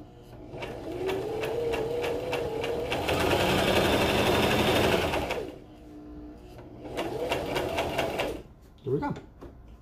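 A sewing machine stitching the sleeve of a cow print jacket, running in two bursts of rapid, steady needle chatter, a longer run, a pause, then a shorter run, with a voice briefly heard near the end.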